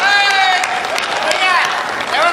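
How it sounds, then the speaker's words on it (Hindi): Audience at a Hindi poetry gathering (kavi sammelan) bursts into dense, continuous applause and cheering, loud and close throughout the short burst. "ताली बजाएं।"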